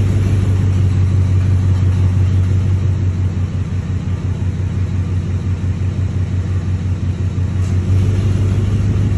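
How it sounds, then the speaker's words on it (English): A 2006 Ford F-250 5.4L V8 pickup engine idles with a steady, deep rumble throughout, low and continuous with a faint hum, no revving and no voices. "The engine itself sounds good, for sure."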